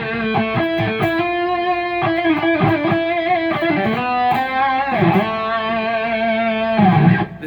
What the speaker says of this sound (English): This is the same Mesa channel with just some added delay and a little more distortion.